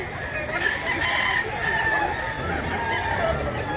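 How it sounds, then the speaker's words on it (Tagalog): Several roosters crow and chickens cluck in a steady, overlapping chorus outdoors, moderately near and with no voices over it. "Daming manok"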